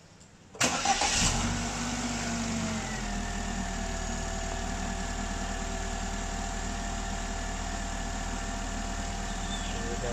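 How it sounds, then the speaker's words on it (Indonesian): A car's starter cranks briefly during a battery cranking test, then the engine catches and settles into a steady, close idle that hums on alone. "sekarang kita coba cranking test di intelligent akumulator. Oke, siap starter"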